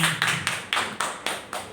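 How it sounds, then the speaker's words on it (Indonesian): A few hands clapping in unison at a gathering, seven distinct claps at an even, slightly slowing rhythm, close and fairly loud with no talk over them. "beri tepuk tangan sekali lagi untuk Bapak Ibu semuanya"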